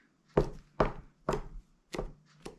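A knife cutting through a börek pastry ready for the oven: five separate chopping thuds against a board at an unhurried, fairly even pace, close and distinct, with no talking.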